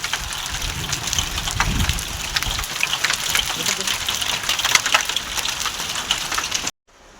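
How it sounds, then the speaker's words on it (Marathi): Large hailstones pelting down in a village during a pre-monsoon storm, a dense continuous clatter of hard impacts on surfaces with rain, people talking over it, ending abruptly. "गारा किती पडतं बघ, मोठ्या मोठ्या गारा पडल्या."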